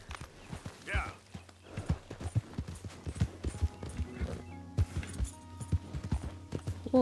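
Hooves clip-clop from a horse in Red Dead Redemption 2, a rhythmic run of sharp hoof strikes at close range, mixed with game sounds and occasional talk.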